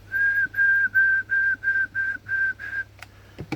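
Eight short, steady whistled notes at one pitch repeat in an even rhythm, close by, followed by a couple of faint clicks.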